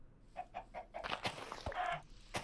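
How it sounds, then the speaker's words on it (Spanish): A Minecraft chicken clucks in a quick run of short clucks, followed by scattered clicks and game noises, fairly quiet with no talking. "Ven, pollo. Pollo gallina."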